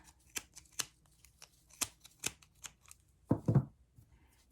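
Scissors cut through tulle for a pompom ornament, making a series of sharp, sparse snips, quiet and close, followed by a brief louder rustle of the fabric.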